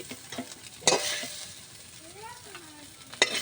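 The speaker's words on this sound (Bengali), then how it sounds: "এই সয়াবিন বড়ি তুলে নিচ্ছি।" Soybean nuggets fry in hot oil with a faint steady sizzle while a utensil stirs and lifts them, giving a few sharp close scraping clinks.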